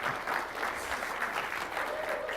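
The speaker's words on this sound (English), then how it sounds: "So just give it a round of applause just to keep you active." A conference audience at a Tableau JavaScript API talk gives a round of applause, a continuous wash of many hands clapping at moderate level from across the room, steady throughout with no talk on top.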